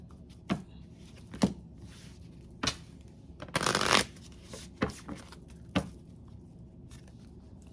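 A deck of oracle cards gets riffled and tapped, with several sharp quiet flicks spaced through the clip and one longer burst of shuffling in the middle, close and soft in a quiet room.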